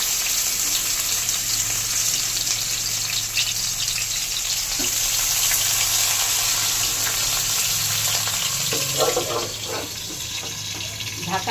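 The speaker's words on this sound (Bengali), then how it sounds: "এইবার পাতুরিগুলো বসিয়ে দেব।" Chhana paturi wrapped in gourd leaves fries in mustard oil in a wok with a loud, steady sizzle and hiss throughout, with a few clinks near the end.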